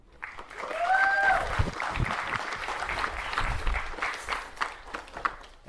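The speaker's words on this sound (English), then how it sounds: "Ashley deserves a round of applause too" An audience at a fall capstone festival applauds steadily for a few seconds, with faint background chatter and a brief tonal sound early on.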